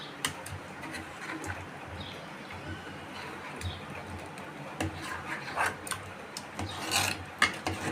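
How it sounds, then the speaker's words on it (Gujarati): Spicy Kathiyawadi-style potatoes being stirred and mixed into a thick gravy in a pan, giving a steady, close-up rasping scrape with small irregular bumps and no talking. "હવે આપણે આને મિક્સ કરી લઈએ"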